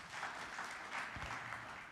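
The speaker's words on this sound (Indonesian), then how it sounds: "Kita beri tepuk tangan yang meriah bagi Tuhan Yesus" A church congregation applauds for Jesus during a sermon, a steady even wash of many hands clapping, moderately distant and without talk.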